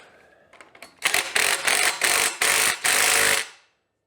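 A power tool drives a bolt down on the engine guard of a Suzuki DL1000 motorcycle, with a few faint clicks before it, then five loud back-to-back bursts of whirring and hammering, close up, that stop abruptly.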